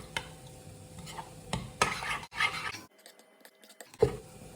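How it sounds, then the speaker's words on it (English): Greek yogurt stirred into homemade tartar sauce in a bowl, giving several soft close scrapes and clicks of a spoon in short bursts with a brief quiet pause. "give that a good stir around and get all that mixed in"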